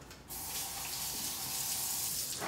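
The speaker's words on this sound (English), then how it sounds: "Wash my hands again." Hands being washed under a running kitchen tap after handling steak rub, a steady close water rush that starts abruptly and runs continuously before cutting off at the end.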